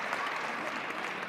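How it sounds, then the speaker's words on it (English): Applause from the team bench for a wrestler at a men's college wrestling dual between App State and Duke in Cameron Indoor, steady dense clapping filling the whole moment, fairly close and even. "And Moncherie gets a big round of applause from the bench."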